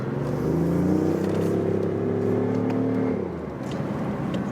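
A BMW i8 Roadster revs loudly up close, a buzzy, motorcycle-like drone that climbs and holds for about three seconds before easing off into a quieter idle.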